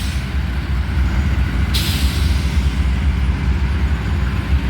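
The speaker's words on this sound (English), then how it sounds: "Knocking off his independent brakes then." A locomotive's independent air brakes release with a sharp hissing burst about two seconds in, over a steady loud diesel rumble as a freight train idles nearby.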